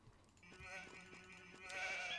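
A sheep in Age of Empires II HD bleats in a drawn-out, wavering call, fairly faint over a soft background hum.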